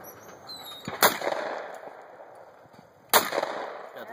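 Two sharp shotgun blasts at a sporting clays range, about two seconds apart, each a loud close crack with a short ringing tail over faint outdoor ambience.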